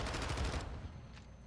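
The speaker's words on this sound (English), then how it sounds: "There's big gunfights inside of Power here" Automatic gunfire from a Modern Warfare II match, a dense burst of rapid shots in the first half second that fades into lower rumbling echoes and scattered fire.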